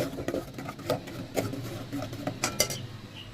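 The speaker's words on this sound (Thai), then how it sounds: "พอน้ำกะทิแห้งเราก็หยอดน้ำกะทิค่ะ คั่วไปจนกว่าจะแห้ง" Coconut cream and curry paste being dry-fried in a pan for a Thai lotus-stem coconut curry, with soft scraping and clinking of a utensil against the pan in irregular strokes, close by and fairly quiet.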